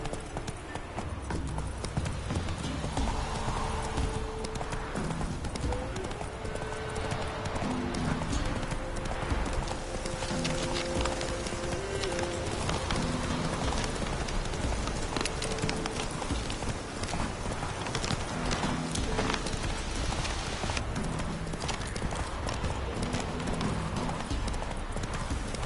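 Roach the horse gallops in The Witcher 3, hooves pounding in a continuous fast clip-clop rhythm, loud and close, over a dense game soundscape with a faint whinny.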